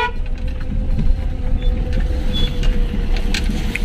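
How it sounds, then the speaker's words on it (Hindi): A car clutch makes noise as the pedal is pressed, heard from inside the car as scattered creaks and mechanical squeaks over a low idling engine rumble. "गाड़ी का क्लच जब मैं दबाता हूँ ना, वो पता नहीं कुछ शोर जैसा कर रही है"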